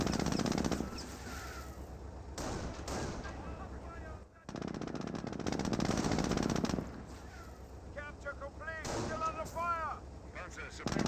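Machine-gun and rifle fire pour onto a garrisoned building in a Company of Heroes battle, sustained rattling bursts with short pauses, dense and fairly close, with bird-like chirps and faint voices woven through.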